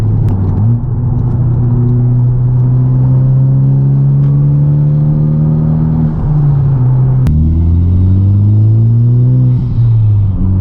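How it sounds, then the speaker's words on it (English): A turbocharged Honda Civic Type R engine with an aftermarket turbo inlet pipe drones steadily and close, its harmonics slowly climbing as revs rise, then dipping briefly before building again, loud throughout with no talking. "Listen to me just give it a little bit of throttle in fifth. It is absolutely louder."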